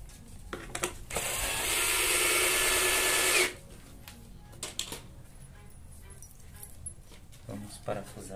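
Power drill driving a screw into wood while building a DIY cabinet-door drilling bench: one steady whirring burst of about two seconds, close and loud, with quieter handling clatter and brief talk around it.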